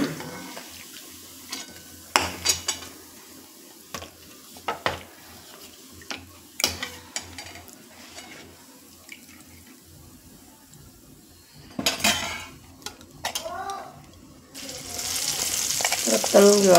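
Coriander vadis deep-frying in hot oil, a steady bubbling sizzle with scattered sharp clicks and knocks of a utensil, growing to a loud hissing surge near the end.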